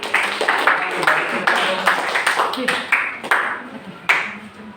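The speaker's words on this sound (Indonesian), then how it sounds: "Tepuk tangan untuk kelompok 4 ya." A classroom of students claps for a student group, with quick, uneven bursts of hand claps rising and fading, mixed with voices talking over them.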